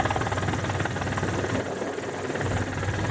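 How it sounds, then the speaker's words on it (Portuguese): A police helicopter flying low over a crowded beach at Capão da Canoa on the northern Rio Grande do Sul coast, its rotor and engine a loud, continuous, steady thrum filling the scene with no voices. "Um helicóptero da polícia foi usado para dispersar os banhistas."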